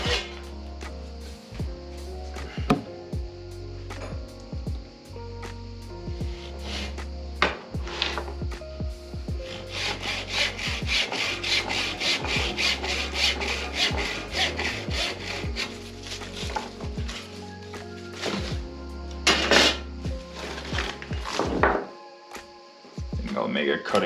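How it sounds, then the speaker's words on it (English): Hand saw cutting through a thick fig tree branch, with repeated close rasping strokes in an uneven rhythm that grow denser midway, with pauses and knocks between strokes. "So I think I'll saw this one off."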